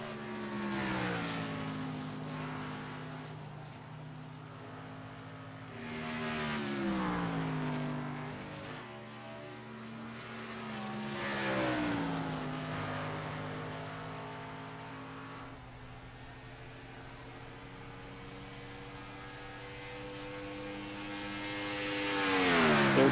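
A race car engine in a racing video game set at Indianapolis Motor Speedway drones steadily, its pitch rising through gears and dipping on lifts in repeated cycles, a single car circling the track with no talk.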